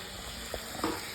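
Chopped tomatoes go into onions frying in oil in a pan for vadakari, a faint, steady sizzle with a couple of soft clicks.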